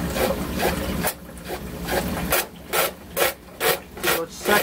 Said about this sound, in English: And you might hear the pump in the back.